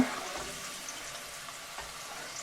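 Prawns frying in oil for prawn sambal: a steady, soft hiss of sizzling with faint bubbling, continuous and fairly quiet, no talking.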